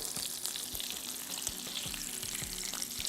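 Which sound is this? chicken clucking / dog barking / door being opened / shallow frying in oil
shallow frying in oil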